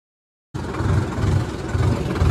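After half a second of silence, a tractor engine at a soybean harvest starts up loud and close, running steadily with a low rhythmic throb as it reverses.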